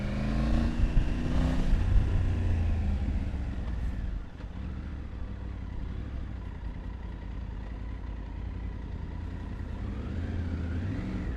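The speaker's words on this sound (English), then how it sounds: "It's got a growl now, apart from the whistle." A Triumph Tiger 900 Rally Pro motorcycle engine growls steadily while riding, a low continuous rumble with a slight rise early on, close and fairly loud, with wind noise mixed in.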